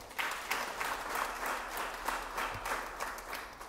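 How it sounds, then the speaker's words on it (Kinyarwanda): A church congregation at AERA Ministry gives a round of applause. The clapping is faint and rhythmic, with pulses of many hands swelling at regular beats. "Duhereze Imana amashyi menshi."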